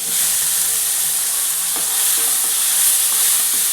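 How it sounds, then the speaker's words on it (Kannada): Onion and ground masala frying in hot oil for mutton biryani, a steady bright sizzle throughout with a few soft stirring scrapes, close and constant, no voices. "ಈರುಳ್ಳಿ ಫ್ರೈ ಆಗೈತೆ ಇವಾಗ ಮಸಾಲೆ ರುಬ್ಕೊಂಡಿದ್ನಲ್ಲ ಅದು ಹಾಕ್ತಾ ಇದ್ದೀನಿ"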